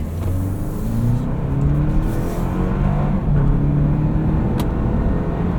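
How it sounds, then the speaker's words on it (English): A 2024 Toyota Land Cruiser with an 8-speed automatic accelerates, its engine droning loud and close with rising pitch sweeps through smooth gear changes and steady road and wind noise throughout. "Let's see what acceleration is like."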